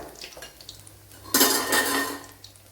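A utensil stirs and turns a banana snack in a cooking pan, giving light clinks and then a louder scraping rattle against the metal, close by.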